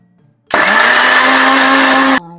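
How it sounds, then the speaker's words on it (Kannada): A blender grinds peeled mangoes in one loud, steady whir lasting under two seconds, starting and stopping abruptly with no talking. "2 ಮಾವಿನ ಹಣ್ಣು ತಗೊಂಡು ಸಿಪ್ಪೆ ಸಪ್ರೇಟ್ ಮಾಡಿ ಇದನ್ನ ರುಬ್ಕೊಳ್ಳೋಣ"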